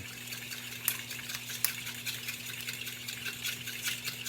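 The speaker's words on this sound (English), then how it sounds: "And you should whisk this for probably about 30 seconds so that way it's all nice and even." Light, steady scraping and clinking of a whisk beating eggs and butter in a bowl, with a couple of sharper taps against the side and a faint hum underneath.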